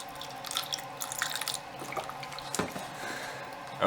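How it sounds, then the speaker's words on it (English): Liquid poured into a plastic cup gives faint trickling and dripping with a few splashy spurts and small clinks, set against a quiet room. "I was just gonna like pour some into this cup."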